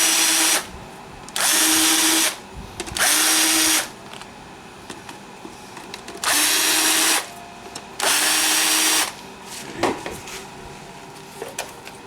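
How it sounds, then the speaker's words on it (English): A cordless drill with a dying battery whirs in four short bursts of about a second each, separated by pauses filled with light clicks and handling noises. "Uh-oh, my drill's going dead."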